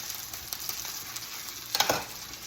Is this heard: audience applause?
no